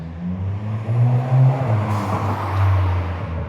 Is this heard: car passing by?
yes